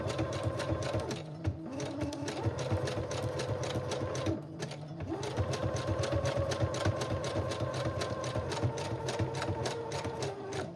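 A sewing machine stitches a journal cover with a fast, steady mechanical chatter, running close and loud with two brief pauses as the needle stops and restarts.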